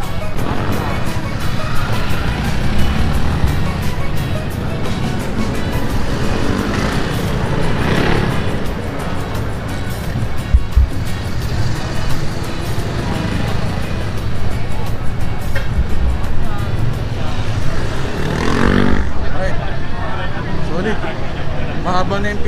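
Many motorcycles, including Yamaha R15 and Sniper models, run at a racing bike festival, with a steady engine rumble and traffic-like drone beneath crowd chatter and close speech throughout.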